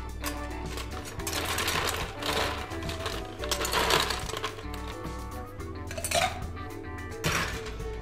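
Ice cubes dropped into a cocktail shaker holding Cointreau and lime juice, clattering in several separate bursts of rattling, clinking impacts over about eight seconds.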